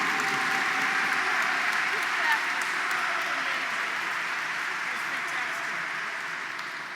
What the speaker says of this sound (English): Clap it up. Keep clapping it up